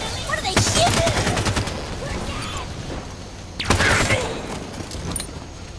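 Covenant gunfire in Halo 5 Guardians crackles in rapid bursts, with a sharper volley partway through, set in a noisy battle ambience.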